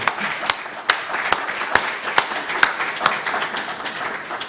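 Audience at an inaugural professorial lecture applauding Professor Bamikole, a moderate round of scattered, distinct claps with sharp individual hand strikes standing out over a softer wash of clapping.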